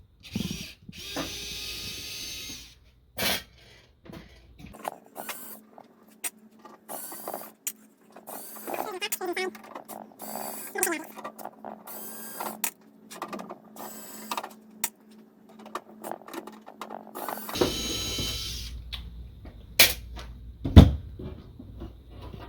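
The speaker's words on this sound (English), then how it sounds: "You start by removing this top panel." Screws being taken out and the top panel lifted off a Kenwood TS-520 radio, with scattered clicks, rattles and metallic handling noises nearby, a steady hum running underneath through the middle stretch.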